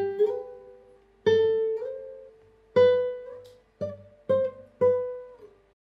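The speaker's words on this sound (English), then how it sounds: "The glissando technique, or also known as the slide, sounds like this." A classical guitar plays glissando slides, six separate plucked notes gliding in pitch, each ringing and then decaying, with short pauses between them and no voice.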